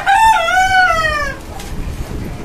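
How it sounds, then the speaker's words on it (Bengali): A caged farm chicken lets out a loud, close, drawn-out crowing call that fades after about a second, followed by quieter rustling. "এই হচ্ছে আপনার ফার্মি মুরগিগুলা"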